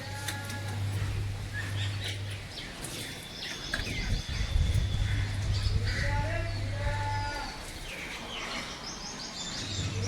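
Birds chirp and twitter in short repeated bursts throughout, set against a dense outdoor background with low lowing that sounds like cattle and a continuous hum.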